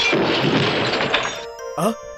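A wooden cupboard falls over with a heavy wooden crash, clattering and breaking debris, loud and close, followed by a brief voice.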